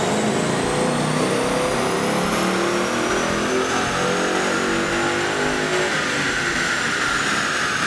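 A 2015 Mustang GT engine revving hard on a dyno, a loud continuous roar that climbs steadily in pitch through the whole stretch with no pauses.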